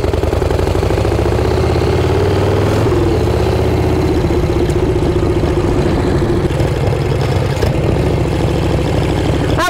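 Vehicle engine idling loud and close before setting off on a ride, a constant low rumble with a brief shift in pitch partway through.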